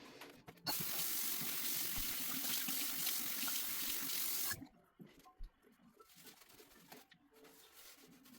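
Tap water runs steadily and loudly for about four seconds as face scrub is rinsed off during a facial skincare routine, then cuts off, leaving quieter splashes and handling sounds.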